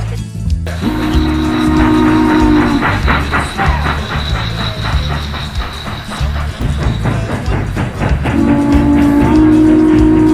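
Small toy train runs along model tracks at a toy train show, giving a steady rolling rumble with clicking rail noise and a sustained whistle tone near the start and end, close by and without speech.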